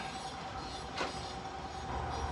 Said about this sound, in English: this is the little shuttle train that runs between here and Montauk and back